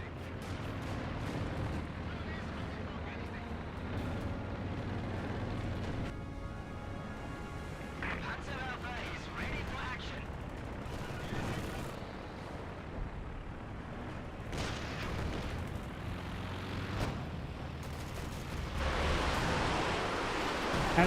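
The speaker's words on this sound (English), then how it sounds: "Lots of explosives being hurled on in." Repeated explosions and artillery-style booms from the Company of Heroes 2 battle game, during a barrage with a Panther tank involved. The blasts roll on steadily throughout, thick and rumbling, while a commentator talks over them.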